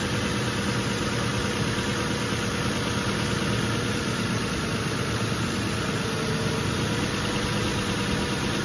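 A 2006–2012 R51 Nissan Pathfinder 4.0-liter engine idling during a coolant fill, a steady, unbroken mid-pitched hum that holds constant throughout, with no talking.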